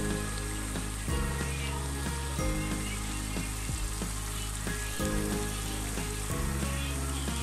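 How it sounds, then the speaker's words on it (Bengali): Fish liver frying in hot oil for a fish lotpoti, giving a steady, dense sizzle close by that runs without a break, with faint low tonal music underneath and no talking. "এভাবে আমি একদম মাছটাকে মাছের লাতুরিটাকে ভালোভাবে ভেজে নেব"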